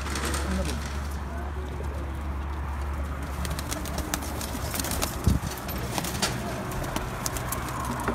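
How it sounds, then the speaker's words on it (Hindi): Breeder pigeons on a rooftop loft coo in low, soft rolling calls, several birds near and steady throughout, with a sharp knock midway and people talking in the background. "ये सारे ब्रीडर कबूतर"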